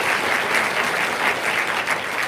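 Warm, sustained applause from an audience at a school senior awards ceremony, dense even clapping at steady volume filling the hall with no voices over it.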